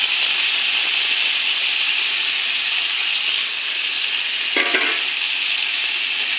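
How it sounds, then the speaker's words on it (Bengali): Cauliflower and potato frying in plenty of oil with spices, a steady loud sizzle and hiss throughout, broken once by a brief scrape of stirring near the end. "এখন ফুলকপি আলু ভাজা করাটা দিয়ে দেব।"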